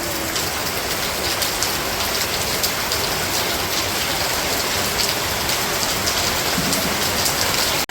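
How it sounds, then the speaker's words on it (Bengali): Steady heavy rain falling and pattering on surfaces, a constant close hiss with no voices. "আজকে থেকে আবার শুরু হয়ে গেছে বৃষ্টি"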